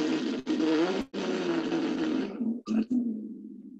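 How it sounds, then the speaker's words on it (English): Conch shell blown with buzzing lips, a loud, rough, low horn-like drone in several sustained bursts separated by brief breaths, ending in a fading tail. "that sound is going into the shell, and then it's amplified with inside the shell."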